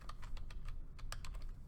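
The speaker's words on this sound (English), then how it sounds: "I can go ahead and start typing now." Rapid, steady keystrokes on a computer keyboard while formatting a document in Word, close and continuous clicking with no talk.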